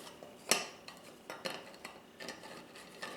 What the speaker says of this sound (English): first do a layer of cookies, throw them in the bowl, and then arrange them in a single layer